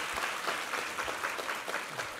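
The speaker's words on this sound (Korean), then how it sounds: "우리 하나님께 감사와 영광의 박수 올려드리겠습니다" Steady, moderately faint applause from a Korean church congregation at a Sunday anniversary worship service, a dense wash of clapping filling the room without speech.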